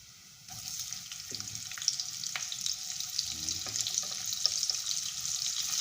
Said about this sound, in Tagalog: Ihalo natin yung ating sibuyas.